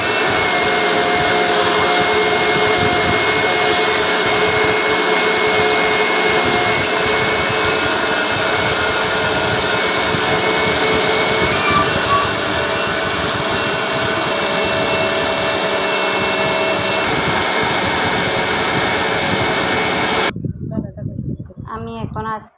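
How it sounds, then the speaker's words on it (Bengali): A kitchen blender whirs a mango ice cream mixture with milk powder in its jar, a loud steady motor drone running for about twenty seconds before cutting off, followed by a brief voice. "1 মিনিট ব্লেন্ড করে নিব"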